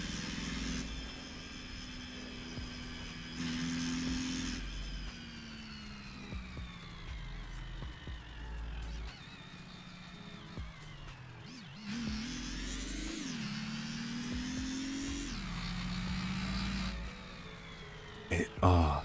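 A car engine in the game GearBlocks revs up and shifts through a 3-speed automatic transmission, pitch rising then dropping at each shift, with a voice talking over it much of the time.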